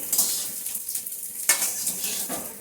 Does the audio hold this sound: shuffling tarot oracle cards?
no